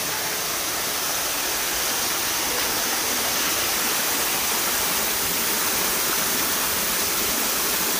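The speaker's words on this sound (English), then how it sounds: "Full on waterfall!" An indoor waterfall in the rainforest section of Tropical World in Leeds roars as a loud, steady, close rush of falling water that stays constant throughout, with no talk.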